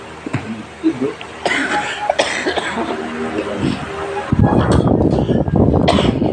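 A person coughs a few times in short, harsh bursts at close range. A dense, steady broadband noise then takes over for the final couple of seconds.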